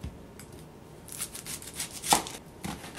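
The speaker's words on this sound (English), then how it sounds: "Next, we'll peel and chop the onion." Knife chopping an onion on a board for vegan gluten-free tamales, a few irregular crisp cuts and scraping strokes, close and fairly quiet, with no talking.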